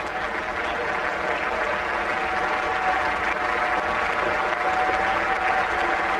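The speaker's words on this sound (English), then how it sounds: "Applause from the Australian dressing room as well." Applause from the Australian dressing room for Mark Waugh's fifty at the 1999 World Cup ODI against India, a steady wash of distant crowd clapping that holds evenly throughout.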